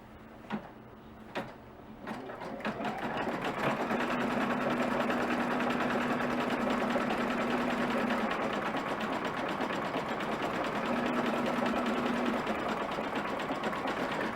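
An embroidery sewing machine stitches felties in a 4x4 hoop, starting after a few clicks and settling into a fast, continuous mechanical whirring rattle that runs steadily to the end, fairly quiet and close.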